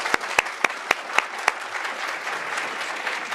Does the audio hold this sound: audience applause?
yes